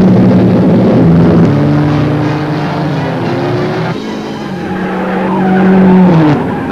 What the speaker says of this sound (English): First car to shoot away is Ron Flockhart's Cooper Climax, but it's a lead that's short-lived as the Stirling Moss Lotus bearing his lucky number 7 goes to the front